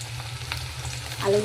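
Potatoes sizzle steadily in hot oil in a pan already holding fried onion and whole cumin, a continuous close frying hiss that swells louder near the end as they settle in the pan.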